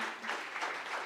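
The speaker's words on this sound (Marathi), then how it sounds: "यांच्यासाठी जोरदार टाळ्या होऊन जाऊ द्या" Audience applause at a book launch ceremony, a dense burst of many hands clapping at moderate distance, filling the whole short moment without speech.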